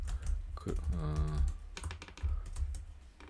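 Clicks of typing on a computer keyboard come in quick, irregular bursts, with a short voice sound mixed in partway through.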